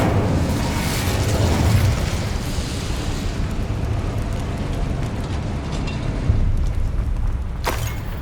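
A fire spell blast in the video game Hogwarts Legacy: a loud, rumbling burst of flame that roars at the start and then settles into a sustained crackling wash, with a sharp swish near the end.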